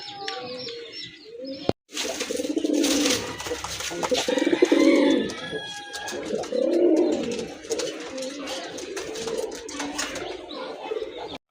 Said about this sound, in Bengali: এক জোড়া দেশি কবুতর, এটা পিওর দেশি কবুতর